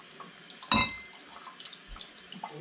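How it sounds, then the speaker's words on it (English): Tap water splashing briefly into bottles being rinsed before labelling for homemade cranberry hard cider, one short burst followed by light drips and trickles, close and fairly quiet. "I'm just going to give each of the bottles a little rinse to get any residue off"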